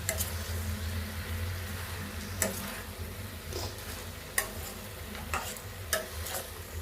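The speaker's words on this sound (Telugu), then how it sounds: "ఒకసారి బాగా కలిపేసుకుందాం" Tomato chutney stirred and mixed in a pan, a soft sizzle underneath with several sharp spoon clicks and scrapes at irregular intervals.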